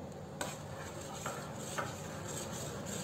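Milk brought to a boil in a pot is stirred on a medium-high flame for strawberry ice cream, with faint scraping and a few light clinks of the spoon against the pot over a low simmering hiss.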